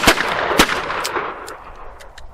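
Several gunshots from an inexpensive Rock Island revolver chambered in .38 Special, two loud, sharp cracks close together at the start followed by quieter, more distant reports fading out, with no talking.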